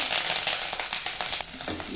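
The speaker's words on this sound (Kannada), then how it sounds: "ಒಂದು ಅರ್ಧ ಈರುಳ್ಳಿ ಹಾಕ್ಕೊಳ್ಳೋಣ ಒಗ್ಗರಣೆಗೆ ಬೆಳ್ಳುಳ್ಳಿ ಒಂದು ಐದಾರು ಜಜ್ಜಿ ಹಾಕ್ಕೊಳ್ಳೋಣ" Onion, crushed garlic and curry leaves sizzle in hot tempering oil for a horse gram bassaru, a continuous close crackling hiss.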